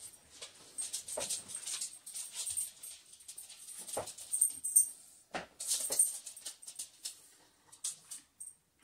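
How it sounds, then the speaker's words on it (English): Dogs whimpering and panting close by, with soft whines and breathy sounds scattered through the clip and no talking. "These dogs are so cool."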